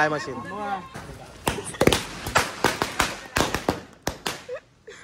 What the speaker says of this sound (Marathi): या फटाक्याच्या आयटमची बात करतोय मी. Fly machine